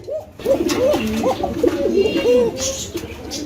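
A Basiraj pigeon coos in a thin voice, a close, loud run of rolling coos lasting a few seconds at a pigeon market.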